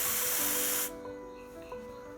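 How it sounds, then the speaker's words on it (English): An aerosol can of insect spray hisses loudly and steadily for just under a second, then cuts off abruptly, leaving a quiet room with faint tonal background hum. "It is an insect spray to illustrate how small particles can fly in the air."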